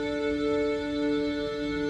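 Cello drones run through Steinberg X-Stream's spectral filter, a sustained, airy chord with a softly swelling, slightly wavering texture, steady and fairly quiet with no voices.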